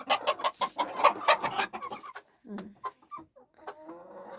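Chickens and young chicks, including a naked-neck hen, cluck in a busy, close series of short calls, overlapping and irregular, with quieter softer clucks trailing off.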